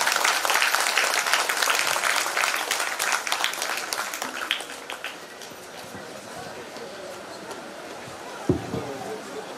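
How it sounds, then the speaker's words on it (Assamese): An audience at a Bihu celebration claps loudly and steadily for a performer, then the applause gradually thins and softens over several seconds with a little crowd murmur. "এটা জোৰকৈ হাত চাপৰি দিব লাগে বাইদেউৰ কাৰণে"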